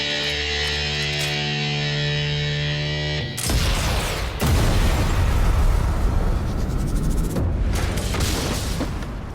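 Panzerfaust blast in Sniper Elite 5 on PlayStation 5: a steady droning background abruptly gives way to a loud, broad explosion around the three-second mark, followed by sustained rumbling debris and a second burst, with no talking.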